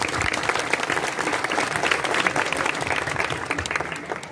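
Sustained applause from a crowd, dense rapid clapping that stays loud and steady throughout with no voices standing out.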